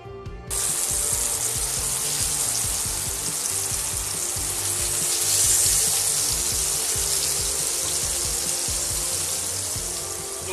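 Yogurt-marinated chicken breast searing in a frying pan, a loud continuous sizzle that starts abruptly as the pieces hit the pan and holds steady throughout, with no talking.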